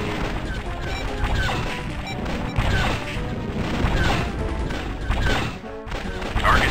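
A Y-wing is blasted apart in the TIE Fighter space combat game, with loud crunching impacts and explosive crashes booming repeatedly over a continuous engine roar.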